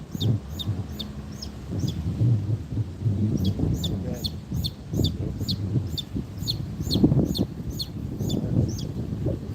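Chickens clucking at an outdoor camp in Hawaii, a steady run of short repeated calls close by over low rumbling background noise and scattered voices.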